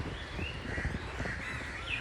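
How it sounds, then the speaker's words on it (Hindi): Crows cawing with faint bird chirps in the morning outdoors near trees, a steady wash of calls at moderate distance with no talking. "इसमें और अभी सुबह सुबह कितने पक्षी हैं चहचहा रहे हैं"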